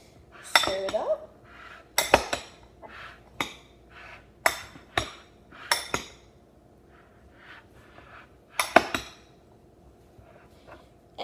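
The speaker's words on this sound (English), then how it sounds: "So probably about a tablespoon of lemon juice. Squirt it on there. And then you stir it up." A spoon stirs lemon juice into chopped vegetables in a bowl, giving a string of sharp irregular clinks and scrapes close by, with a voice briefly heard.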